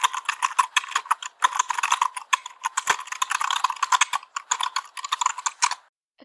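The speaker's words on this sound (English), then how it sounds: "Keyboard or a typewriter or a computer. Yes, typing is correct." Rapid typing on a keyboard, a dense, irregular clatter of close, crisp keystrokes with brief pauses, heard alone without speech before stopping near the end.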